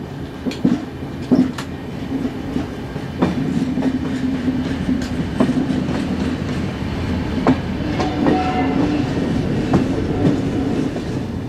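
A Danish EA electric locomotive runs with a steady rolling rumble, a sustained low hum and scattered rail clicks throughout.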